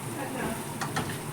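Tomatoes fry and sizzle in a pan as an egg goes in, with a steady low crackle, some stirring, and two brief brighter splashes near the end.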